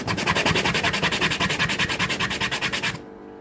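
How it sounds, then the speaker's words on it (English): Coarse 60 grit sandpaper rubbed over the edges of a wood veneer ring, a steady rapid back-and-forth scratching with even rhythmic strokes, close and loud, stopping abruptly near the end. "the coarsest sandpaper I've got, which is the 60, which is what I use to take the edges down"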